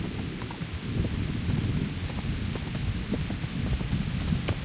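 Heavy rain pours steadily in the medieval open-world game Kingdom Come Deliverance, a dense low rumbling wash with occasional faint drips and taps, continuous and moderately loud with no voices.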